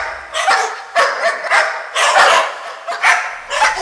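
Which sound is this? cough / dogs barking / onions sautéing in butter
dogs barking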